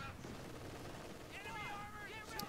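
Bazookas firing in a Company of Heroes 2 battle, a dense crackle of gunfire and blasts with a rising whistling tone partway through, all running steadily under the game's battle din.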